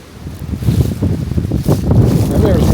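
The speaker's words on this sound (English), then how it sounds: "That wind is kicking." Strong outdoor wind buffets the microphone in loud, gusting rumbles that build toward the end, with a voice speaking faintly underneath.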